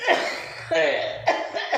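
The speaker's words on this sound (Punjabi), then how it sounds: "ਬੀਬੀ ਨੂੰ ਵਿਚਾਰੇ ਨੂੰ ਖਾਂਸੀ ਆਣ ਲੱਗੀ" An elderly woman coughs several times in quick, harsh bursts after singing folk songs, close and fairly loud, with a raspy, throaty edge.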